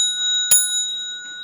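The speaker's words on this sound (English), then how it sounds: "So here comes the bell." A single struck Buddhist ceremonial bell rings at a Dharma lecture before bowing. One sharp strike lands over a steady ringing tone that sustains clearly throughout.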